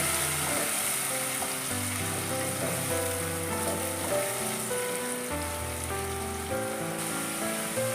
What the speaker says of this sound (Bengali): তেলটা আমার গরম হয়ে গেছে। এবারে ওর মধ্যে আমি পেঁয়াজ বাটাটা দিয়ে দিলাম।